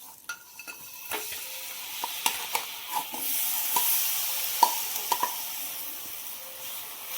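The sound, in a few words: stirring jaggery and sesame seeds in ghee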